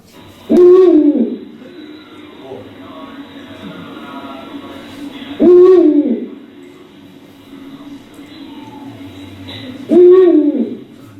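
An owl hoots three times in a row, loud and close, with long even gaps between the calls over a quiet background hum.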